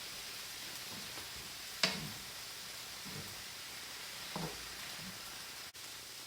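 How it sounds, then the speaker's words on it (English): Ground beef sizzles quietly in a pan, a soft continuous hiss with a few light clicks and stirring knocks, no talking over it. "As soon as you hear your beef or meat that you're going to use sizzle"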